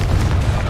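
Hogwarts Legacy's Confringo blasting spell exploding on PS5, one heavy, close boom with a thick low-end rumble lasting under a second.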